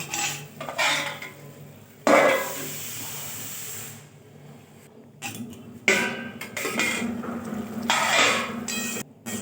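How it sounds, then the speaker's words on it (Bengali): Cauliflower curry pot being handled after water is poured in, metallic clanks and scrapes of a lid and utensils over a hissing simmer, close and intermittent with brief quiet gaps, no voices. "এবার জল দিয়ে দিলাম এবার এটা ঢেকে দেব"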